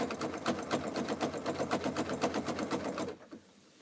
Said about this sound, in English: How am I sewing this? With a zigzag stitch?